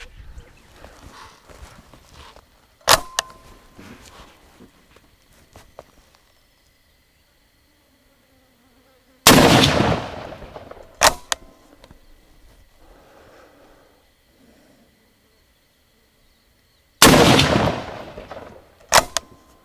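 Three loud Verney Carron Speedline .308 Win rifle shots fitted with a muzzle brake, spaced several seconds apart, each a sharp blast with a long rolling decay outdoors, with quieter handling noises between.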